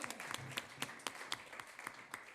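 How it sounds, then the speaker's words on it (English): An audience applauds steadily, many hands clapping in a dense, crackling patter at moderate distance. "let's hear another round of applause for Abby"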